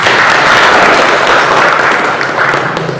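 Students applaud together in an Indonesian classroom during an explanation-text lesson, a steady, dense wash of many hands clapping at close range for the full three seconds, loud and without talk.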